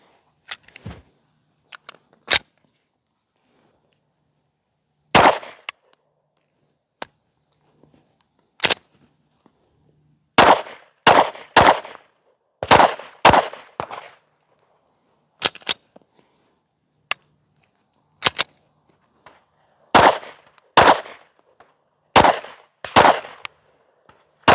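A PSA Dagger custom pistol with a Strike Industries Lite slide and L2D Combat Systems barrel, fired at a range: loud, sharp single shots and quick strings of rapid shots, separated by uneven pauses and pressed close together in the second half.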